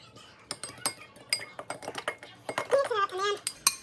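A utensil clinks and scrapes against a bowl while meatloaf glaze is mixed, a busy run of sharp close taps and rattles, with a voice speaking briefly partway through.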